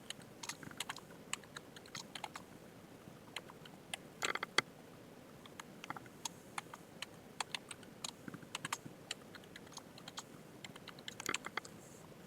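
Close computer keyboard typing while entering a password: quick irregular key clicks and taps, faint and crisp, with short pauses and a brief dense flurry midway, no voices.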